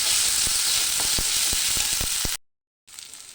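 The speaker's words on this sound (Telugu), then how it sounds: "మసాలా కూడా బాగా ఫ్రై అయిపోవాలండి." Masala and onions fry in hot oil for a mutton curry, giving a loud, steady close sizzle with a few soft stirring knocks. The sound cuts to silence briefly, then a fainter sizzle returns.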